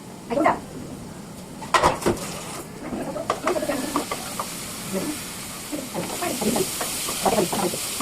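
Water poured into a hot frying paste of ginger, turmeric, chili powder and salt gives a hissing, steamy sizzle with bubbling and stirring clatter, fairly close and moderate in level.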